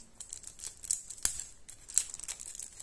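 An Escape Tales: Children of Wyrmwoods game box being opened up close, with soft crinkling of wrapping, light rustles and a couple of crisp clicks and taps.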